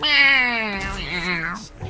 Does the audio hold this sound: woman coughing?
no